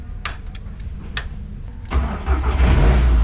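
A car engine at Laguna Seca cranks and catches with a loud, close rumble, settling into a steady idle after a few light clicks and knocks.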